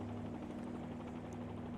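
Helicopter rotor in a flight simulator video game during an engine failure, a steady dense whirring hum with a constant low tone holding evenly throughout, alone with no talk.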